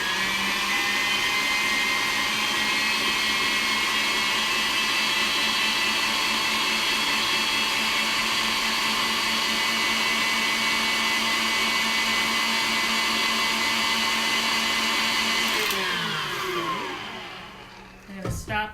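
An electric hand mixer beats cream cheese for a raspberry strawberry cheesecake dip, giving a steady, fairly quiet motor whine that runs without a break for about fifteen seconds and then winds down and stops, with a little scraping after.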